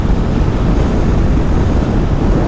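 Strong wind blasts a rider on a KTM Duke 390 motorcycle cruising a highway, a loud, constant low roar and buffeting rumble that fills everything.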